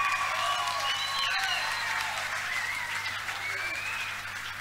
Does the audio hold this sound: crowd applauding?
yes